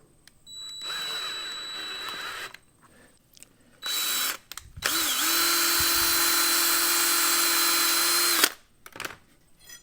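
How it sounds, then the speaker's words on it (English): A power drill bores out a wheel hole on a Char-Broil grill part in three bursts. The first is a medium run, then a short one, then a long, steady high whine, with brief handling noises between them. "but I can drill that out pretty easily."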